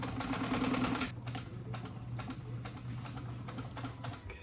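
Sewing machine stitching a motorcycle seat cover for a customized Sportster, a fast steady mechanical whir for about a second, then quieter ticking and low hum as the machine slows or pauses.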